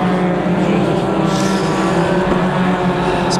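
Unlimited banger race cars roar around the Kings Lynn oval track in a steady, loud engine drone, a dense pack of motors blending into one continuous rumble at close range.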